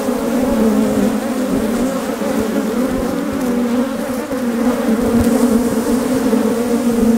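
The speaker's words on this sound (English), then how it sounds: "There are a lot of bees all over the microphone." Loud, dense buzzing of many honeybees from an open hive right up close on the microphone, a steady droning hum that wavers slightly in pitch and never lets up.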